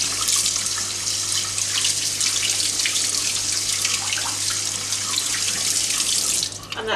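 Quinoa being rinsed under a running kitchen tap, a steady broadband rush of water splashing into a sink and over the grains that continues nearly unbroken before easing off at the end.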